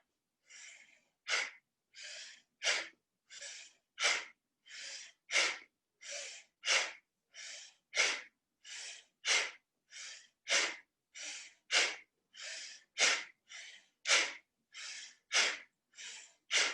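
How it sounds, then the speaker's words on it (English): Powerful yoga breathing with strong, forceful exhales in a steady rapid rhythm, about two dozen close, loud breath bursts in a row with no talk over them. "When you reach, it's like you're stretching your breath, and then you exhale powerfully back."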